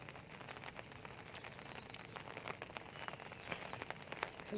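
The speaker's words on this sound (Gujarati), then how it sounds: "વરસાદ અત્યારે હજી ચાલુ છે" Rain falls steadily in Bhatiya, a soft, even hiss with scattered faint patters of drops. It sounds distant and quiet throughout, with no talking.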